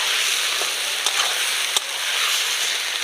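Marinated chicken pieces sear in a pan over fried garlic for a Bengali chicken kosha curry, giving a steady, even sizzle with a couple of brief sharp clicks and no talking.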